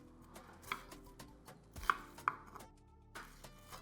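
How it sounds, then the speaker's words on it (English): A knife finely chopping a red onion on a board, with scattered quick cuts and a couple of sharper knocks of the blade, close and fairly quiet with no talk. "I'm just gonna go ahead and finely chop 1 red onion"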